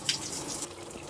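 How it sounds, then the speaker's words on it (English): Water running through hidden shower pipes behind a wall while nothing comes out of the spigot, a faint, steady hiss and rush over a short stretch. "You can hear water running."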